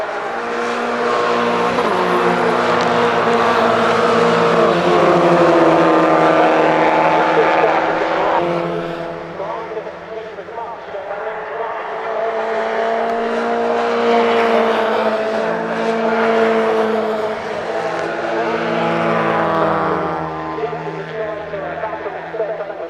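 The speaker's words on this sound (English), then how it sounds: "so that's one retirement from the race, but for the lead of the race, through the goosenet, this is where Chris D" Race cars lapping Cadwell Park circuit at a 750 Motor Club meeting, engines roaring loudly and steadily with rising and falling pitch as cars pass, under continuous race commentary.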